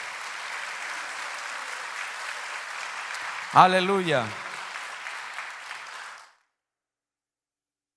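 Church congregation applauding during a sermon, a broad, steady wash of clapping that runs several seconds, briefly topped by a loud voice calling out before the applause fades and cuts to silence.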